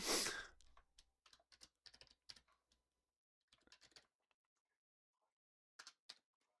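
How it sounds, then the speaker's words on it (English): Typing on a computer keyboard: scattered short clusters of close, quiet key clicks with pauses between them, following a brief louder thump at the start. "making sure I am typing the goddamn thing correctly"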